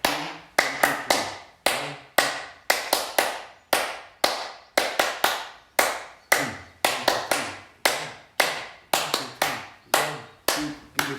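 Bare hands clap sharply during a pranayama breathing exercise, loud close claps falling in a repeating rhythm of twos and threes with short pauses between groups.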